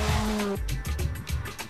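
Citroën C2 R2 Max rally car on a muddy stage of the Rally F.C. Porto 2009, its engine loud and close, dropping off sharply and then pulsing with choppy throttle bursts.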